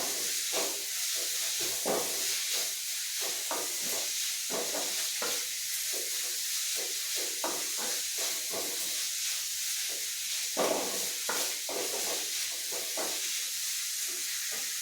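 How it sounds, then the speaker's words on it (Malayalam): Elephant foot yam sautés in a pan for Kerala-style mezhukkupuratti, with a continuous hiss and sizzle and repeated scraping stirs throughout at close range. "ഇനി ഇത് നന്നായിട്ടൊന്ന് വഴറ്റിയെടുക്കണം."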